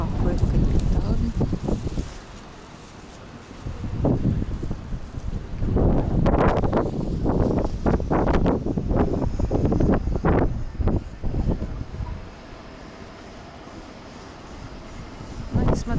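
Gusty wind on the central seafront promenade at Anapa, low blustery roaring bursts hitting the microphone in irregular gusts, loud and near, with a person talking over parts of it.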